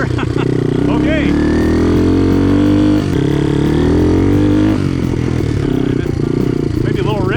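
A vintage Honda XL dirt bike engine runs slightly rich with rockers needing adjustment. A loud, close, rough engine rumbles and revs with mechanical clatter, and a person talks over it.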